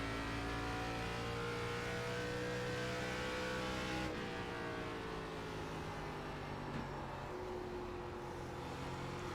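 A race car engine holds a continuous high, loud drone through a flying lap at Phoenix in the iRacing simulator, its pitch shifting slightly as the car works through the corners.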